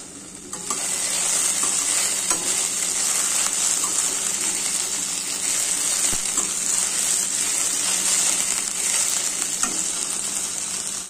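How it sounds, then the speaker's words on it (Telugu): Sliced okra fries in a pan for a coconut and green chili stir-fry, giving a steady, loud sizzle throughout, broken by the scraping clinks of a spoon stirring the vegetables. "మళ్ళీ బెండకాయ కలుపుకుందామండి"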